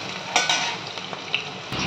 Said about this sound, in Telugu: పచ్చిమిరపకాయలు, ఉల్లిపాయలు వేసి గోల్డెన్ కలర్ వచ్చిన వరకు ఫ్రై చేసుకోవాలండి